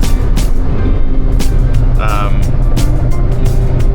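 A 900hp Ford Mustang Boss 302 cruises in fifth gear with a steady, loud low engine drone and road rumble throughout, and a brief higher tone near the middle.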